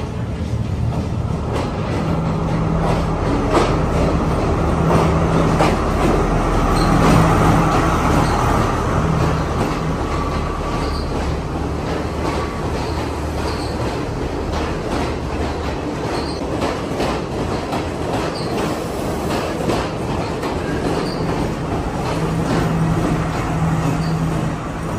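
A train runs along the Nuwara Eliya to Ella line in Sri Lanka, giving a steady, loud rumble with clickety-clack wheel rhythm and faint squeals throughout, with no talking.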